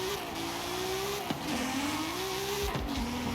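A car engine in a racing video game revs steadily, then drops sharply at each upshift, twice in quick succession, climbing again after each change, loud and alone with no talk.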